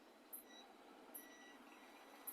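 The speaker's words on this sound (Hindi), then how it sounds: "जो हमारा मीटर है वो बजर बज रही है।" Multimeter continuity buzzer sounding on a shorted circuit during repair of a Samsung LED TV panel with an AVDD short, giving three short faint high beeps spaced evenly, close and quiet over a steady background hiss.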